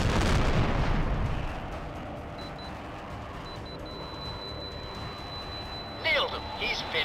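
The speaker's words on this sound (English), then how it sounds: "Direct hit. Rebel warehouses destroyed." Heavy explosions from airstrikes on rebel warehouses in the flight combat game Tom Clancy's H.A.W.X., with a loud low boom at the start fading into a rumbling tail, then radio chatter and beeps near the end.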